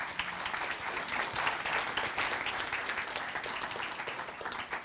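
A seminar audience gives a sustained round of applause, dense even clapping throughout from a large crowd in a hall.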